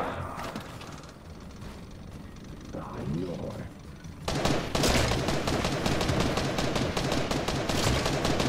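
In Fortnite, a pistol fires in a rapid string of sharp cracks that fill the second half loudly, after a quieter stretch of game noise with a voice speaking briefly.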